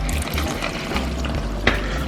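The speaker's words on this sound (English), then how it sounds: "I'm gonna add some water just to top it up a bit" Hot water poured into a pot of Jamaican curry goat, a steady close splash and gurgle of liquid filling the pot with a small clink near the end.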